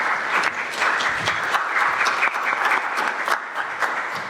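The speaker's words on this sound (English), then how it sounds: "Let's please clap." Audience applause after a talk by health workers, a steady dense clapping from a crowd that holds throughout at moderate level with no voices over it.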